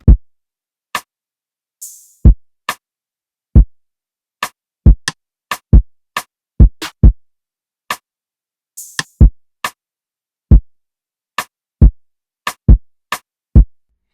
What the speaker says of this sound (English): this kick and rim pattern right here from my drum kit